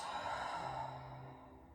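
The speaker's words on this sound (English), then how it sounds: "Breathing out." A slow, steady exhale during a neck and shoulder stretching routine, with the upper back rounded and the elbows leaning against a wall; a soft, breathy sigh lasting under two seconds that fades gently toward the end.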